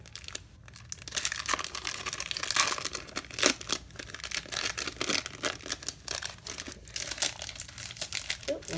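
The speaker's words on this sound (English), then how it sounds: "Oop, more crinkling." Packaging crinkles and rustles as a swap envelope is opened and unpacked, a steady stream of close, papery crackles and tearing sounds with no talk.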